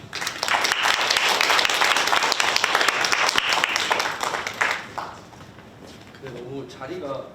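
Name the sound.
audience applause welcoming a speaker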